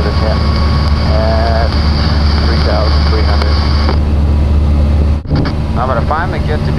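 A Cessna 175 light airplane engine drones steadily and loudly in the cockpit on approach near Apple Valley, California, with radio and cockpit voices talking over it.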